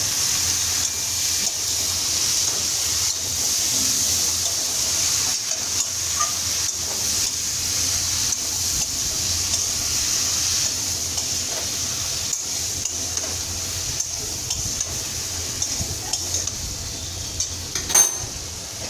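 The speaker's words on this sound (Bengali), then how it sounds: "সবজিগুলো ভাজি নিয়ে একসাথে কষিয়ে দিব দেবো" Mixed vegetables sizzling as they are fried and sautéed together, a steady bright hiss with faint stirring scrapes underneath, even and close for a long stretch without speech.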